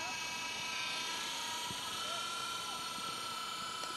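A Protocol Skyline G-Series 3-channel RC helicopter with gyro hovers outdoors in light wind, its steady high-pitched rotor and motor whine droning continuously near the listener, with a voice faintly under it.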